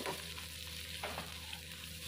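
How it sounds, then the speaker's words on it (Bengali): Chopped onion frying in hot oil with chillies for a mashkalai dal, a steady soft sizzle with brief stirring scrapes, close and moderately quiet throughout. "দিয়ে দিচ্ছি পেঁয়াজ কুচি।"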